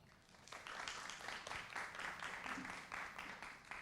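Audience applause at a VFX game industry talk: a crowd claps steadily and evenly for several seconds, sounding somewhat distant and fairly quiet in the room.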